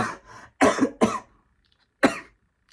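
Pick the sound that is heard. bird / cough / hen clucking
cough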